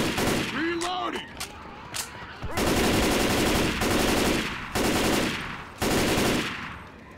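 Gunfire in the Left 4 Dead 2 zombie shooter: loud, sustained bursts of automatic shots in several long strings separated by brief pauses, close and dominant, with a voice briefly heard at the start.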